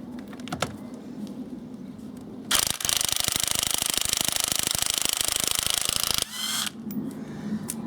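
A Parkside 20V battery impact tool undoes a car wheel nut, a loud rapid hammering rattle lasting several seconds, preceded and followed by quieter ambient sound with faint bird calls.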